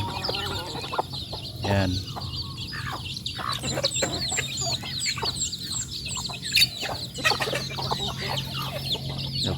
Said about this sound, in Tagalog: Ito yung mga sisiw natin, free range native chicken.